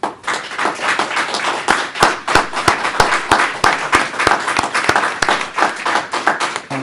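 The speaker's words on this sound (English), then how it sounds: "So we want to applaud the selection." A small group applauds at a mayor's media briefing, with close, loud claps overlapping, some sharp individual slaps standing out in a quick irregular rhythm.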